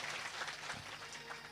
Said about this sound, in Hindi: काशीराम जी के लिए एक बार जोरदार तालियां बजाओ